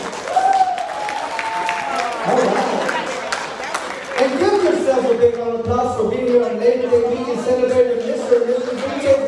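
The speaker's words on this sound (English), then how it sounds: "Let's give them a big round of applause so they can hear" Wedding guests at a reception applaud in a sustained round of clapping and cheering, with a host's amplified voice talking over the crowd throughout.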